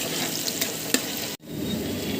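Onions fry in a pan for a crab curry, a loud, dense sizzle with a few brief stirring scrapes and a sudden short gap before the frying resumes.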